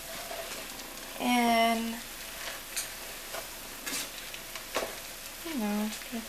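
A whole chicken is tossed about in a coating, making soft rustling, scraping shuffles with brief bursts of speech over a quiet kitchen background.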